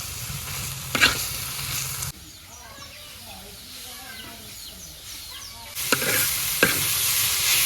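Jute leaves with chopped onion fry and sizzle in a pan, with scraping stir strokes near the start and end; a quieter stretch in the middle carries chirping birds in the background.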